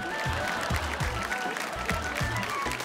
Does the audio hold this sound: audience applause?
yes